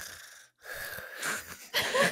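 A voice imitates a long yawn, a breathy, drawn-out exhale that rises in loudness and ends in a strained, wheezy stretch, close and alone, with no other speech.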